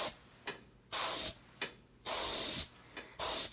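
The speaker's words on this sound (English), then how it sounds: "you get close with the airbrush and then you back away while you're in mid-spray" An airbrush sprays in three sustained hissing bursts, each close and loud, separated by brief quieter pauses with short puffs of air.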